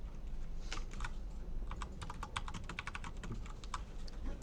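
JavaScript code is typed on a computer keyboard: quick bursts of crisp, close key clicks over a low steady background hum, with no talking.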